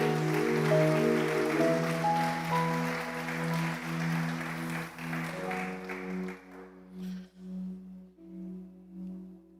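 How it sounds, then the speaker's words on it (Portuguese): A church congregation applauds during a sermon, with a broad wash of clapping over sustained keyboard chords that gradually thins out while the music carries on. "Um aplauso a Jesus"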